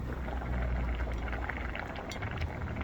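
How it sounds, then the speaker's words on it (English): A pot of rice cooking on power from an EcoFlow River Pro portable power station bubbles and simmers steadily, a dense, continuous boiling hiss heard up close with no talk. "So I'm about 26 minutes into cooking this rice."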